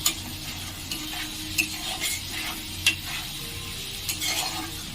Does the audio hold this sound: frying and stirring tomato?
yes